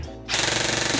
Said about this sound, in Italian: e così è la raffica.